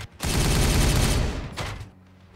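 A loud, dense burst of rapid gunfire in the Warhammer 40K Regicide video game lasts about a second, followed by a shorter second volley that fades out.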